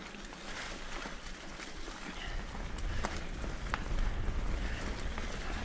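Breezy wind outdoors on a muddy downhill trail near Triscombe, a continuous broadband rush and buffeting that swells louder midway, close to the microphone with no clear talk.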